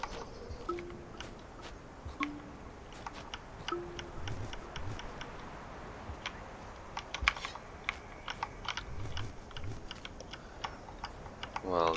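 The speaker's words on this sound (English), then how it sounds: "these keys are just really loud. Sure, it's good for like day use if you like hearing the clicky clacks of the keyboard." Loud, clicky computer keys are struck in quick irregular bursts of sharp clacks, close up, over a quiet room tone, with some brief talk between.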